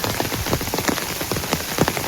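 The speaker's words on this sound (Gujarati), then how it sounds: "વરસાદ ક્યાં સુધી પડે તમને બતાવીશું" Heavy rain pours down on a farm in Gungliya village, a dense, constant patter of drops striking surfaces nearby, loud and continuous with no voices.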